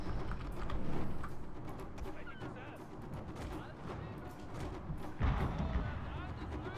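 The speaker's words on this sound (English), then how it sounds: "we're behind the enemy admiral with our gunboats, hitting him with flaming shells" Gunboats firing flaming shells during a naval battle in Total War Shogun 2: Fall of the Samurai, with dense, continuous rumbling cannon fire and scattered bursts, including a heavier blast near the end.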